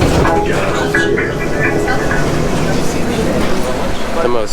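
A tram pulling into a stop in Nice, France: rumbling wheels and squealing, whining brakes as it slows, loud and close, with passengers talking over it.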